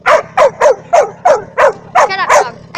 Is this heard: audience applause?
no